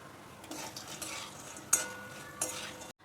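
Whole spices such as star anise frying in oil in a pan for Kolhapuri onion-garlic masala, a faint steady sizzle broken by scraping stirs and a few sharp clinks of a utensil against the pan.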